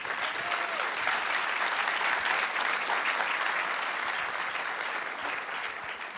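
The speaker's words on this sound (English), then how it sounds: "Another warm round of applause for Nashen Penn." Sustained warm applause from a festival audience honoring an actor at a film festival tribute in Morocco, a dense steady wash of many hands clapping throughout, fairly close and even in level.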